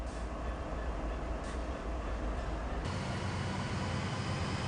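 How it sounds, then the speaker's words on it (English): Several locomotives in Train Sim World 3 pull a train on Sherman Hill near Hermosa and Cheyenne Yard with a loud, continuous, heavy rumble and roar whose tone shifts partway through. "Let's make sure all our locomotives are huffing and puffing together."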